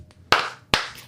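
Two sharp, loud hand claps from an audience, spaced about half a second apart, each ringing briefly before fading, with no talking over them.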